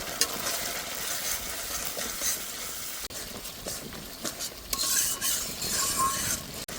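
Tomato puree seasoned with salt and turmeric is stirred and sautéed in a pan for a catla fish curry, giving a steady close scraping and soft sizzle with occasional spoon clinks, no voices.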